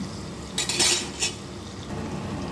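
Fish half-frying in a pan for a Mangalorean fish curry, giving a low steady sizzle with a few brief bright bursts of clatter from stirring or a utensil, close and without talk.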